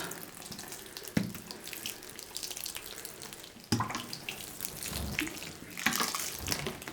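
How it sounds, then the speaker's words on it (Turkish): Chlorine-free water is sprinkled to lightly moisten bedding for red California worms (Eisenia foetida), giving close splashing and trickling with a few sharper bumps and surges across several seconds and no speech. "Daha sonra bunları klorsuz bir suyla hafif nemlendiriyoruz."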